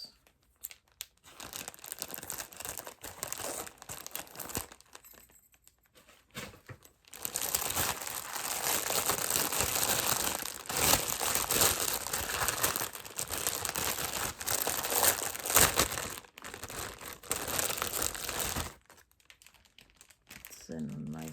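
A plastic protective bag holding a doll or action figure crinkles and rustles as it is cut open, a close, busy crackling that runs in bursts with short pauses, with a voice talking alongside.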